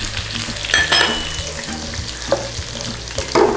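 Garlic sizzling in hot fat at the start of a roux for a slow-cooked chicken stew, a steady close frying crackle with a few sharper stirring clatters near the end.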